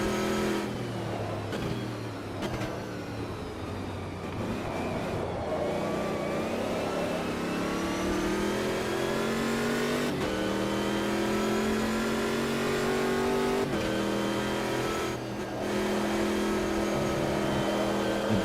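Racing truck engines rev and drone steadily in the Automobilista 2 racing game, several overlapping engine notes rising and falling in pitch, loud and continuous throughout with no talking.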